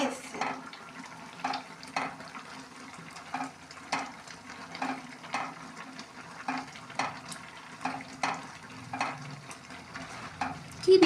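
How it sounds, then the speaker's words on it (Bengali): A spoon stirs egg-milk kheer in a pan in a regular rhythm of soft scraping strokes about once a second, close and quiet over a faint simmer. "এখন সমানে খালি নাড়তে হবে, নাড়লে লেগে গেলে মুশকিল।"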